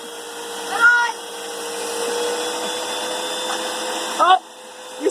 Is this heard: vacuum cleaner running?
yes